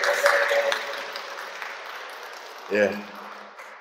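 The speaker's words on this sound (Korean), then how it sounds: "이 환호성은 들을 때마다 짜릿합니다." Audience cheering and applause at a Korean Catholic open Bible lecture, a broad, loud wash of crowd noise at the start that fades as it goes on, with someone speaking briefly near the end.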